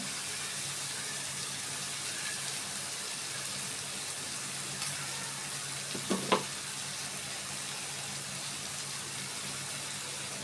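Cabbage frying in a pan over high heat makes a steady, fairly quiet sizzle that holds throughout, with a couple of brief clinks near the middle.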